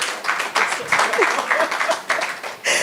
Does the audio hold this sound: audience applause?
yes